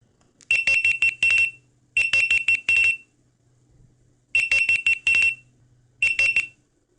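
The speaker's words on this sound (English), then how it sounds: "And finally, let's try the default alarm ringtone." Default Android phone alarm tone sounds in repeated groups of rapid high beeps, four loud clusters with short gaps, clear and unaccompanied.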